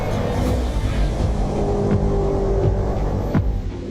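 A Ferrari Challenge race car runs at full throttle toward Eau Rouge at Spa-Francorchamps during a Trofeo Pirelli race, with a dense, steady engine drone close by and no gear changes.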